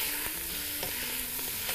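Pasta gets stirred in a frying pan, a continuous close sizzle broken by several short scraping and tapping strokes of the utensil, with no talking.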